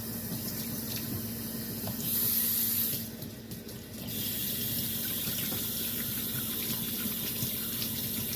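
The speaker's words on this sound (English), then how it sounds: "let me wash my hands" Hands being washed under a running kitchen tap, a steady hiss of flowing water with a brief louder splash partway through, close by and without talk.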